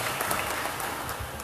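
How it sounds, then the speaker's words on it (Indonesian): An audience at a talk on santri in the digital era claps for the santri, a short, fairly soft burst of steady applause lasting about a second and a half. "tepuk tangan sekali lagi buat para santri"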